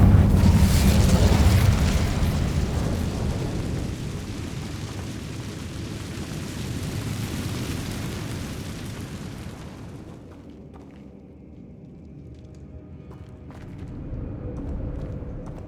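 Casting the Incendio fire spell in Hogwarts Legacy releases a loud, booming burst of fiery roar. It decays over several seconds into a rumbling tail, which drops to quiet and then swells again into a softer rush of flame.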